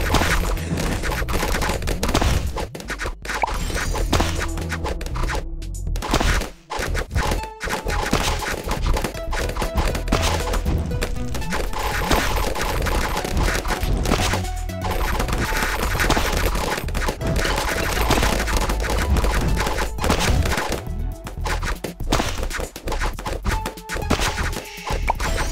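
Rapid video-game gunfire from Bloons Adventure Time TD rattles on almost nonstop, dense bursts of shots with brief gaps, mixed with game thuds and effects throughout.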